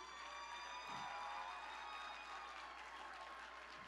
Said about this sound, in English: can you just give a round of applause to your table host just to say thank you?